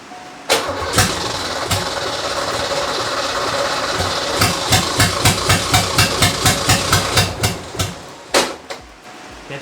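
A 1986 Ford Mustang GT 5.0 V8, revived after years of sitting, cranks with loud, rapid rhythmic pulses, then catches and roars into a rough, noisy idle, close up.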